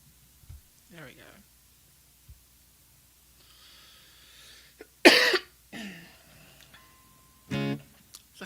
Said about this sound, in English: Let's try not to cough the whole way.